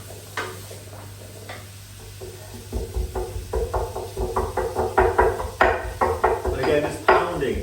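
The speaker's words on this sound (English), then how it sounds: "I'm just going to give those a little bit of a pounding as well." Flat parsley and vegetables are pounded in a kitchen, a series of close, dull knocks that start sparse and grow into a faster, louder rhythmic thumping.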